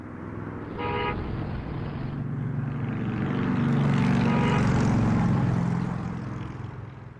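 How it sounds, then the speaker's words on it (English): Car horn sound effect closing a segment of an options trading podcast: a short honk, then a swelling roar like a passing engine that builds and fades, with no talk. "those car horns are always a sad sound for us listeners"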